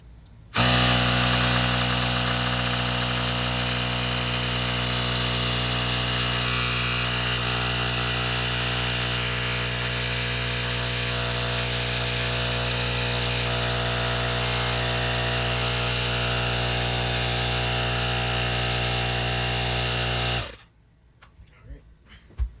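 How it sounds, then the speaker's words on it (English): Compressed air from a nozzle blasts dust out of a Chuwi laptop's cooling fan, a loud steady hiss and whir running without a break for about twenty seconds and then cutting off, followed by faint handling noises. "I'm gonna get an air nozzle"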